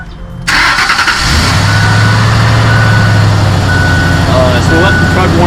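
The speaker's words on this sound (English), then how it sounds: "you want to start up the truck" An airport ground-operations glycol de-icing truck engine cranks briefly, catches and settles into a loud, close, steady idle as it warms up.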